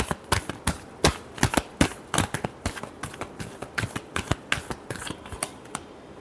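Tarot cards are shuffled close up in a quick series of crisp, papery riffles and slaps, steady and fairly loud, with no voices.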